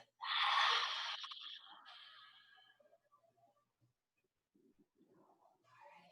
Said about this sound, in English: Exhale, lion's breath.